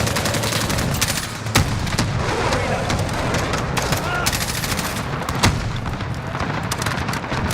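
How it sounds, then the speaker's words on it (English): Rapid explosions from a precision airstrike in a first-person shooter video game, loud and continuous with sharp repeated blasts and gunfire-like cracks over dense battlefield noise. "precision airstrike inbound"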